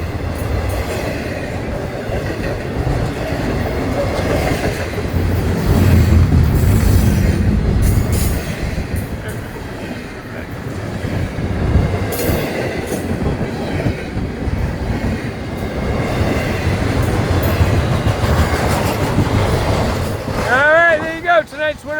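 A Florida East Coast Railway freight train at a grade crossing on State Road 206, rumbling loudly and continuously with engine throb, rolling wheel noise and a brief squeal near the end.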